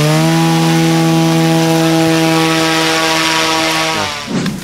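An aircraft propeller engine mounted on a homemade bathtub snowmobile drones loudly and steadily with a rich buzzing tone, then abruptly cuts out near the end, leaving a brief rustle.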